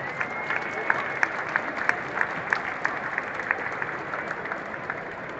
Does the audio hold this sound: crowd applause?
yes